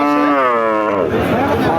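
A cow at a busy cattle market gives one loud, close, sustained moo that bends in pitch, alone and dominant over faint background noise.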